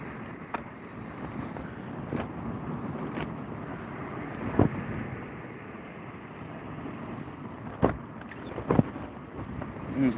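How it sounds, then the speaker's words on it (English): Steady wind noise buffets the microphone on open water during kayak fishing, a constant broadband rush with a few brief knocks and gusts, no talking. "It's just the wind and the tide at the moment."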